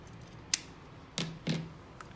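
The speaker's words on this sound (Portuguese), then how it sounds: "Pego aqui, vou cortar essa pontinha." Scissors snip through the material of a handmade thermal bottle bag, giving three crisp, close cuts spaced across a quiet room with no talking.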